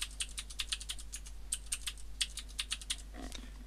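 Fast, light keystrokes on a computer keyboard entering an email address and password, close and fairly quiet over a low steady hum, with one brief pause and a soft click near the end.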